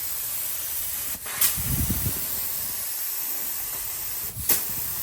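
HVLP spray gun laying automotive paint onto a car hood at about 30 to 32 PSI, a steady close hiss running throughout with two brief breaks where the trigger is released and re-pulled.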